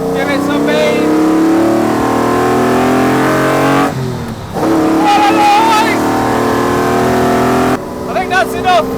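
A 1960s Le Mans Jaguar engine pulls hard in second gear up a hill on a road, a loud sustained rising growl that briefly dips and then surges again, with harmonic whines over it.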